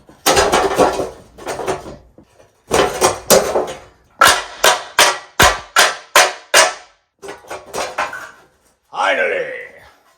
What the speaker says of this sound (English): and then I hit it with a hammer.